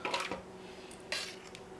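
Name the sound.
spooning roast into a food processor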